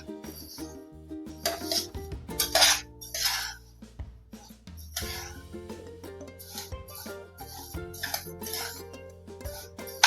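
Roasted rice for chakli bhajani is scooped from a pan into a pot and onto a wide plate, giving irregular close scraping rustles and grainy pours broken by metallic clinks and taps, with quiet gaps between.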